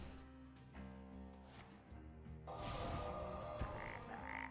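Cartoonish frog croaks from the Hearthstone card game sound under a layer of game music, with a denser burst of effects midway and steady background tones throughout.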